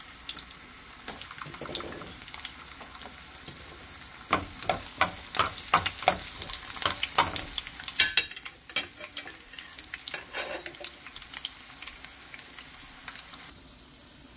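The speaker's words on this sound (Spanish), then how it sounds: "Ahora voy a dorar el ajo, los corté por mitad para que se" Halved garlic cloves fry in hot oil in a pan, giving a faint background sizzle broken by louder bursts of crackling and spattering in the middle, with occasional scraping as the pieces are stirred.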